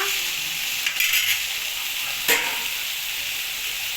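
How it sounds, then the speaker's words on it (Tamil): Vegetables for bottle gourd kulambu sizzle and crackle in hot oil, a steady bright hiss with a couple of brief utensil taps, heard up close without speech. "நல்லா எண்ணெயில் வெந்துக்கிட்டு இருக்கு"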